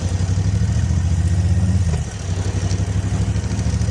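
A Moto Guzzi California motorcycle rumbling at low speed as it rolls in to park, a loud, close, throbbing engine with a brief dip around midway before settling back into a steady idle.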